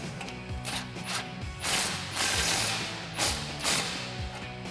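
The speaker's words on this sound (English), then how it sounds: "And then we can loosely tighten this bolt as well." Hand ratchet snugging a clamp bolt on an MBRP 4-inch exhaust front pipe of a 2011-2016 Ford F-250 Super Duty, a close run of rapid metallic clicks in several short bursts with small pauses between strokes.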